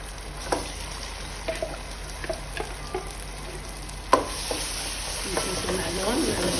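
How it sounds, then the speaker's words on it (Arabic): Tomato paste fries in oil with golden onions, a low steady sizzle beneath repeated sharp taps and scrapes of a spoon stirring against the pan, close and moderately loud. "هسه راح نضيف المعجون. نحمس المعجون في الزيت."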